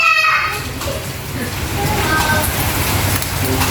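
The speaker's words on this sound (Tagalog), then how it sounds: "Ngayon yung malakas pa ulan eh." Heavy rain pours down around a house, a loud, constant hiss and patter that runs through the whole moment, with a few faint tonal sounds over it.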